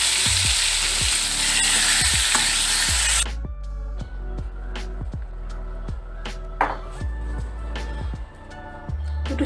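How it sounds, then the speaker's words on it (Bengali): Pieces of pointed gourd (potol) fry in hot oil, giving a loud, close, bright sizzle for the first few seconds. It then drops to a quieter crackle with repeated light taps and clinks of stirring, and no voices. "হালকা একটু ভাজলেই হয়ে যায়"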